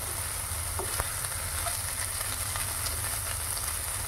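Spices sizzle steadily in hot oil with a little salt and turmeric, cooking for a fish curry with radish; a continuous close frying hiss with a few faint clinks and no talk.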